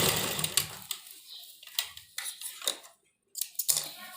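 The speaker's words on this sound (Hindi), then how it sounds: "और फिर सिलाई लगानी है इसके ऊपर।" A sewing machine runs in quick close bursts as it stitches a folded trouser hem, its rapid needle chatter starting and stopping several times with a brief silent pause near the end.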